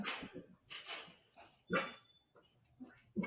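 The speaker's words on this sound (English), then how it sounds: "My dog's throwing up." A sick dog heaves and retches close by in uneven bursts, with wet, gagging spasms and short pauses in between, heard alone without talking.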